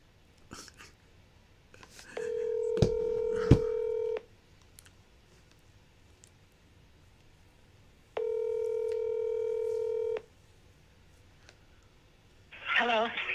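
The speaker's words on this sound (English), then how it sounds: "I done dialed the wrong number." Touch-tone telephone keys beep in two separate bursts of rapid dialing, each lasting about two seconds with a quiet pause between them, heard close and clear, with faint background sounds around them.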